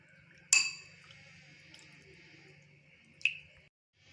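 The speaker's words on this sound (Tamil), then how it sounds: "இந்த மாதிரி 1க்கு 2 ஊற்றி நல்லா கலக்கிக்கலாங்க." Corn flour mixed with water in a bowl for Bombay halwa: two sharp, bright clinks of a utensil against the bowl, a few seconds apart, with near silence between them.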